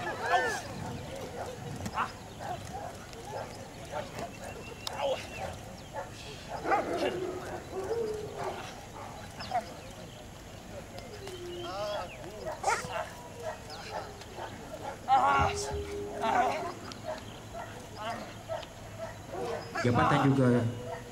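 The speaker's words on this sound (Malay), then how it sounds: "Suspek cukup menolak dan seekor anjing akan dilepaskan." A police dog from a Malaysian prison K9 unit barks in scattered, fairly distant bursts during an outdoor demonstration, partly under a commentator's talk.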